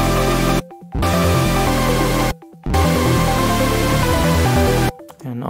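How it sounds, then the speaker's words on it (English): Stacked synth chords, built in Massive X, play as loud sustained blocks with rich harmonics, broken by two short silent gaps and a cutoff near the end. "that way you get the chord stack sound that we've heard in Massive X"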